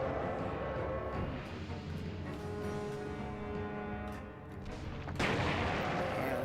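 Gunfire in Resident Evil 2 on the PS1, a dense stretch of booming shots and rumbling blasts, loud and continuous with a sharper burst near the end.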